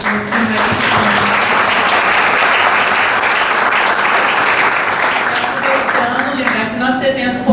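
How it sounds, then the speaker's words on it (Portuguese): Audience applause fills the hall at the close of a conference session, a loud, sustained clapping that holds steady for several seconds, with voices heard toward the end. "Peço uma salva de palmas à nossa participação."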